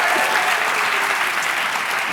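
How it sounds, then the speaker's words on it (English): A studio audience at a daytime health talk show applauds steadily, a dense, even wash of clapping from a large crowd that holds at a constant level throughout. "The audience is clapping now"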